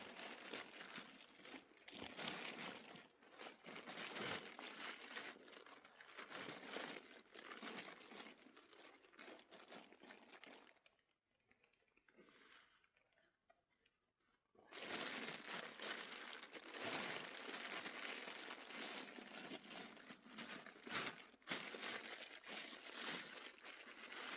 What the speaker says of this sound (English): put in a plastic bag